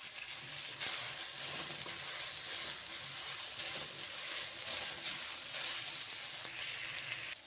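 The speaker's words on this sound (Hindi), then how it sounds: "अब यहाँ पर 300 ग्राम चिकन कीमा ऐड करके 10 मिनट तक इसको पकाएंगे हम" 300 grams of chicken mince cooking in a pan with ginger-garlic paste, giving a loud, steady, close sizzle and frying crackle with occasional stirring, no voices.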